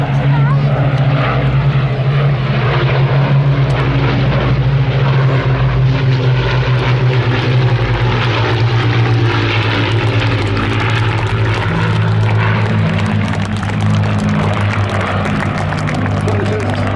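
A Hawker Hurricane fighter, PZ-865 of the Battle of Britain Memorial Flight, flies at the Duxford airshow. Its piston engine gives a loud, continuous droning roar with a low throb that holds steady throughout, and a voice is heard over it.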